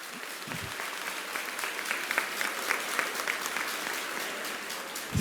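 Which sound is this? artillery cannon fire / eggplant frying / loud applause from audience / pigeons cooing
loud applause from audience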